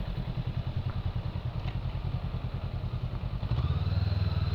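A big Honda motorcycle engine thrums with a rapid, heavy pulse, close by, rising in pitch and loudness near the end as the throttle opens.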